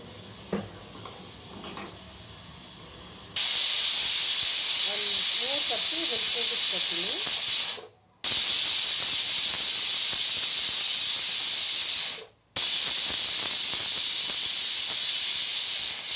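Pressure cooker on a stove hissing steam while cooking vegetable bisibele bath, a loud, steady, close rush of steam that runs for most of the stretch with two brief breaks, after a quieter start.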